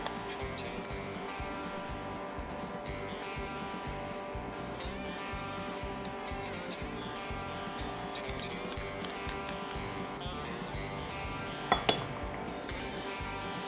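Vanilla being mixed into a sugar and egg mixture in a bowl for crème brûlée, giving steady, rhythmic clinking of a utensil against the bowl, with a couple of sharper knocks near the end.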